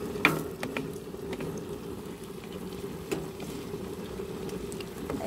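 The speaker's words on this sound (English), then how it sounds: "Wait, I'm gonna fry that a bit." Habanero chilli sauce ingredients frying in a small pot give a faint, steady bubbling sizzle with a few soft clicks and knocks from stirring.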